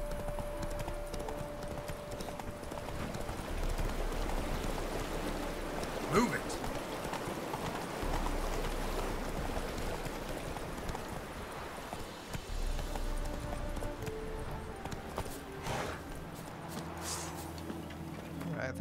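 Roach the horse trots and gallops in The Witcher 3, its hooves clip-clopping in a continuous rhythm beneath game ambience, with a voice speaking briefly over it.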